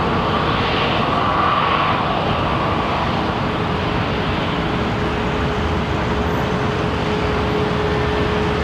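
An Airbus A220 departing London Heathrow Airport sends out a continuous, even jet roar with a faint steady whine, constant in loudness throughout.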